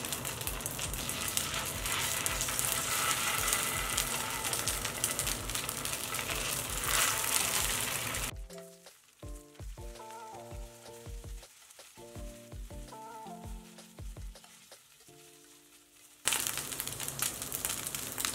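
Idli fry in ghee in a pan with a loud, dense sizzle that stops partway while light music plays alone, then the crackling sizzle returns strongly at the end.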